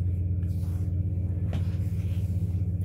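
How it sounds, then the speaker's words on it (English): A loud, steady low rumble of a heavy truck passing close by, sustained throughout with a brief brighter burst midway and no talk. "That truck is loud as mud."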